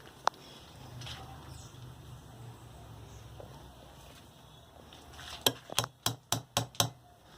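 Wood block tapping on the bearing ring of a ceiling fan being repaired: one early knock, then a quick series of about six sharp, close taps near the end, over quiet room noise.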